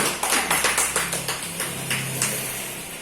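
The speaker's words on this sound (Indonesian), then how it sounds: "Tepuk tangan Bapak Ibu, Bapak Ibu." Small audience at a business presentation clapping in distinct, fairly close bursts, several sharp claps at the start settling into a looser rhythm, with a faint low hum beneath.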